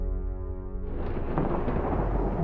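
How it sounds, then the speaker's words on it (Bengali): A loud thunderclap cracks open and rolls into a long, dense rumble that fills the soundscape, used as a sound effect in a spoken horror story about a mountain path. "ঘোর কাটলো বাজ পড়ার শব্দে।"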